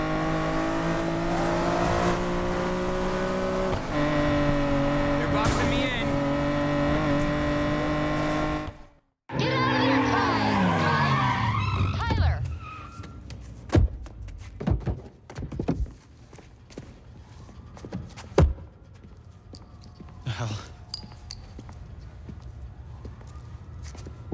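Unmarked police cars chase in Need for Speed Payback, with steady engine roar and music for several seconds, then a cut to sharp thumps, skids and scattered impacts over a quieter background.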